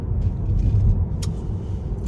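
A car drives along a hill road in Tuscany, with a steady low rumble of engine and road noise from inside the vehicle and a brief faint clatter partway through.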